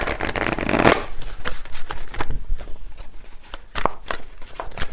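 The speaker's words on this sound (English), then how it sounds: "let me just get a final card here" Tarot deck shuffled close up before a final card is drawn, a dense riffling burst at the start followed by lighter taps and card slides, loud and intimate with no voice.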